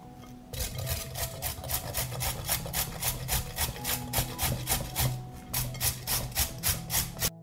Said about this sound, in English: I will grate 1 carrot.